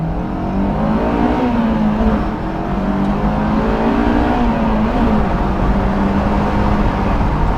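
A 2005 Honda S2000 AP2 pulls away on a drive, its engine droning loud and steady from inside the car as the revs rise and dip slightly.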